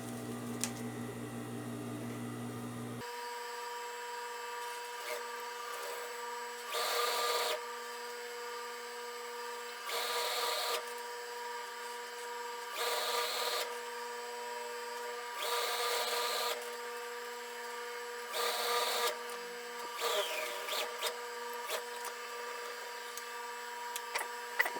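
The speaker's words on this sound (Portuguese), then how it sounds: "Eu vou fazer uma costura basicamente no mesmo local que eu fiz a outra." A sewing machine stitches a 64x64 cm pillow cover with a hidden zipper, running in several steady whirring bursts of a couple of seconds each, separated by short pauses over a constant background hum.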